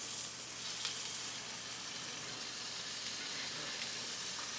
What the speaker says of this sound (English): Now I'm going to flip them and let them finish off cooking with this compound butter.